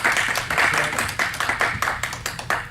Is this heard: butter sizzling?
no